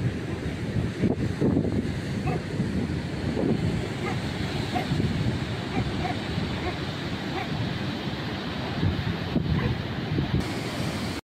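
Sea waves wash steadily onto a beach, a constant broadband roar mixed with wind buffeting the microphone, with a few faint voices in the background.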